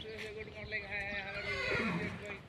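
Horses at a stable whinny and neigh with a long, wavering call, close and clear, with clip-clop hints beneath and someone talking over it.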